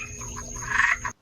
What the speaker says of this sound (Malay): Seekor katak tersepit di celah batu.